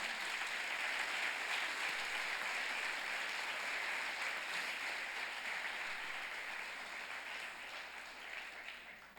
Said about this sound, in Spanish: ¿Qué te parece si le das un aplauso al Señor?